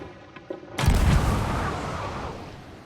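A ship's cannon fires in the Sea of Thieves video game, one loud deep boom after a few faint clicks, followed by a long rumbling decay.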